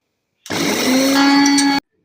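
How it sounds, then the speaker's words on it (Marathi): Electric mixer grinder grinding dried red chillies with salt in a jar, a short loud whirring burst of just over a second that starts and stops abruptly. "हे भांडे मिक्सरला लावून मिरच्या बारीक करून घ्या"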